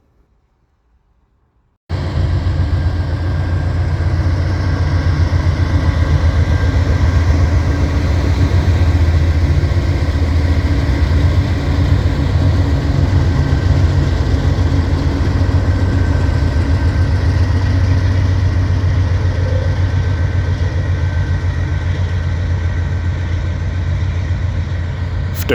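Norfolk Southern freight train 28R passing with its mid-train DPU locomotives on the Harrisburg Line near Paxton, Pennsylvania: a steady, loud diesel engine rumble that starts abruptly after a brief silence and holds constant throughout.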